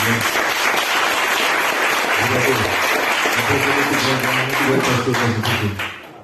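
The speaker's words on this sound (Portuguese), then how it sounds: "Você pode dar salve de palmas, Senhor." Congregation applauding during a healing and deliverance church service, a loud continuous wash of clapping from many people with a voice speaking over it and music-like tones underneath, fading at the end.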